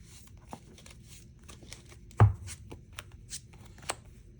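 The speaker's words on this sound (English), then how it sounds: "Shuffling it up once again." A deck of Yu-Gi-Oh cards is shuffled by hand, giving soft, quiet riffling and flicking sounds with one sharper slap midway.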